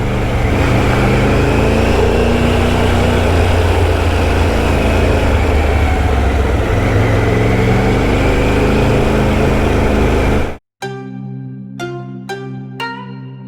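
A Triumph Tiger motorcycle rides through a gorge in Tokushima, Japan: a steady, loud roar of engine and wind runs unbroken for about ten seconds, then cuts abruptly to a quieter scene with a few sharp clicks.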